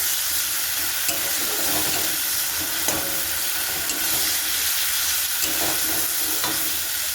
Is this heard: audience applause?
no